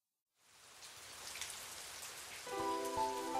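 Steady rain falls on a surface on a wet day, a soft, even patter that fades in and continues throughout, with a faint tonal hum entering near the end.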